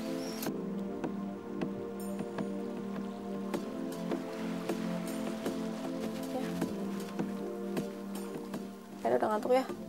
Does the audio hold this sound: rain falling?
yes